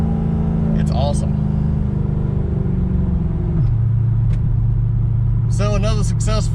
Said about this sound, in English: See how the car shifts?